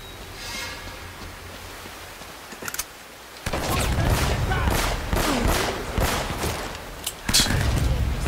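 Rapid bursts of gunfire in the action game Uncharted: Drake's Fortune, with a quiet stretch before the shooting starts and then repeated loud volleys and crackling shots continuing to the end.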